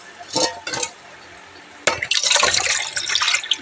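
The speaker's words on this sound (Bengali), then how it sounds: "একটু জলটা ভরে নি দেখো এই গামলায় ঢেলে নেব জলটা" Water is poured into a basin (gamla) at home, a few short splashes first, then a sustained, close, splashing pour that fills the rest.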